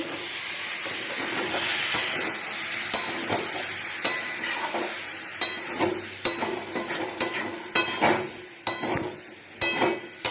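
Spice paste frying in a pan while being stirred and cooked down, a continuous close sizzle punctuated by repeated sharp scrapes and knocks of the spoon that grow louder and more frequent.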